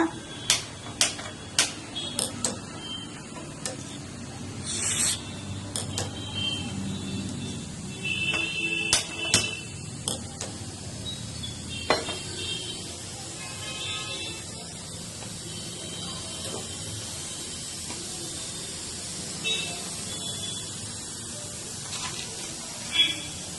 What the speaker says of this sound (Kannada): ಒಂದು ಸ್ವಲ್ಪ ಎಣ್ಣೆ ಹಾಕೊಳ್ಳೋಣ ಕೂಗಿಸ್ಕೊಳ್ಳೋಣ ಇವಾಗ ಈಗ ಜೀರಿಗೆ ಮೆಣಸು ಮೆಂತ್ಯ ಇಷ್ಟನ್ನು ಬಿಸಿ ಮಾಡ್ಕೊಳ್ಳೋಣ